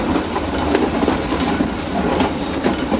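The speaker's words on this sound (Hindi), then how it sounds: "यस कर्व पर यह ट्रेन पास हो रही है, निकल रही है।" A train passes on an S-curve of the Nilgiri mountain railway near Ooty. It makes a steady, loud rolling rumble with faint rhythmic wheel clatter throughout.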